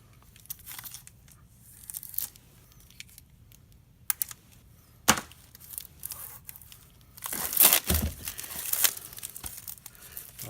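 A hardcover Brigandine rulebook is opened during an unboxing, with soft intermittent rustles and crinkles of plastic wrap, a few sharp tearing bursts, and then a louder stretch of crumpling and page handling.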